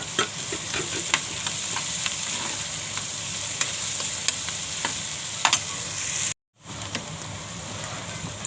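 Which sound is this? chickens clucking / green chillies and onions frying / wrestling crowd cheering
green chillies and onions frying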